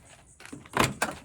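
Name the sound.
van door being opened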